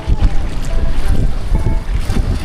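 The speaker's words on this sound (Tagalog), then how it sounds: "Ang lakas ng alon guys oh" Heavy sea waves slap and surge around a fishing boat off Taiwan in strong wind, a continuous churning wash with rhythmic thuds against the hull, close and loud.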